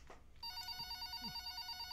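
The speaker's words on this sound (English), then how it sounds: "Phone's gonna ring all loud and shit." A telephone rings in the horror video game Replace The Lamp, a steady electronic ring that begins after a brief soft rustle and holds on alone.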